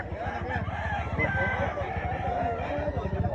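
At a gamefowl expo in Mantalungon, Barili, Cebu, roosters crow among the crowd while voices talk over a busy, noisy background.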